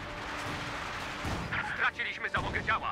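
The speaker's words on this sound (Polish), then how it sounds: "wiązka granatów wrzucona, niezauważone będzie, wybuchują jeszcze w stanowisku" Grenade bundle explosions in the video game Company of Heroes 2, deep booming blasts with rumbling battle noise, moderately loud, under a voice commenting throughout.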